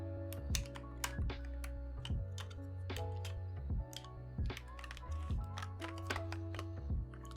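Nuphy Halo 65 keyboard spacebar, modded for quietness and held upside down, pressed repeatedly: close, soft clacks and thocks in an irregular rhythm with no talk.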